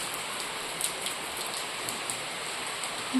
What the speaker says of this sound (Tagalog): Yan guys, biglang umulan yung panahon.